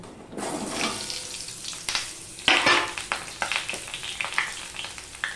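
Cut potatoes frying in oil for a mutton dish, a steady close sizzle with scattered sharp crackles and a few louder bursts of spitting, no voices.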